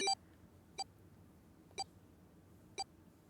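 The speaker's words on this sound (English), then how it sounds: "His bracelet gave a cold electronic beep." Four short electronic beeps from a bracelet in the video game Zero Escape 999, spaced about a second apart, clean and high-pitched over a faint low hum.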